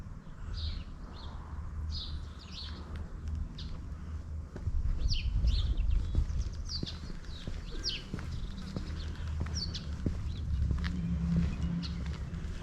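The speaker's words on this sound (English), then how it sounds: "All you can hear is the sparrows chirping." Sparrows chirp in short, bright bursts scattered across a quiet village lane in Houghton, West Sussex, with soft footsteps and low ambient rumble beneath; calls are moderately near and repeat irregularly.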